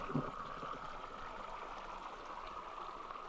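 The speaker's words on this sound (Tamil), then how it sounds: "ரொம்ப தண்ணி எப்படி வந்துட்டுருக்குன்னு பாருங்க" Water rushes strongly over rocks at Vazhukkuparai waterfall near Salem. The flow is a steady, fairly faint broadband wash that continues unbroken with no voices.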